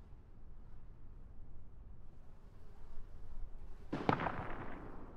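Gunfire in an open-world survival game where the player is a duck: a sharp, loud crack near the end over a low continuous background rumble.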